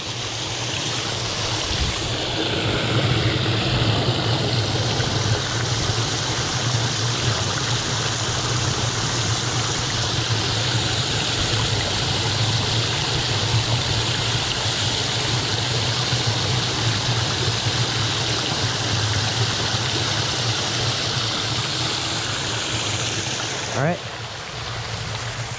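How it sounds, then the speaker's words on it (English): Waterfall at Sheridan Creek pours in a steady, broad rushing roar that holds constant and fairly loud for the whole stretch, with only a brief knock near the end. "For now, you can watch this waterfall."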